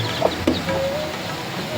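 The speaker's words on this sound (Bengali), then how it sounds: "দেশি মুরগি, অরিজিনাল দেশি মুরগি।" Native free-range hens kept at home in a coop, giving a few short clucks close by over a steady background hum, with a drawn-out call near the middle of the clip.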